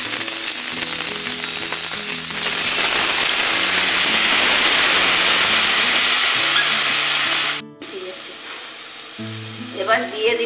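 Black cumin seeds and poppy seed paste sizzle loudly in hot oil while cooking Bengali rui posto, a steady dense frying hiss that cuts off abruptly, then quieter spluttering and clinks follow.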